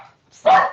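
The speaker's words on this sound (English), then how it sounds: "somebody just rang the doorbell and my dog is going crazy" A single loud, close bark from a pet dog set off by the doorbell, coming after a short quiet pause and fading out quickly.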